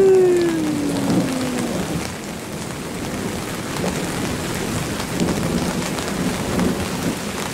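A low rumble of thunder fades at the start, followed by steady rain falling on surfaces, during a thunderstorm over Birmingham, England.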